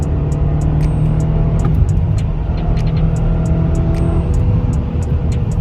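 A BMW E70 X5M twin-turbo SUV on lowering springs gets a light throttle press, its engine giving a steady, loud low rumble with a continuous broadband drone throughout and no talking.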